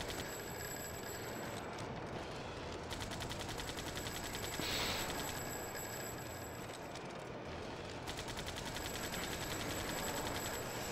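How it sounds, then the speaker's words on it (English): Sustained automatic machine gun fire in Earth Defense Force 2017, a dense rapid stream of shots running nearly the whole time, steady and loud, with a brief brighter burst midway. "now position under it and just blast it with the machine gun"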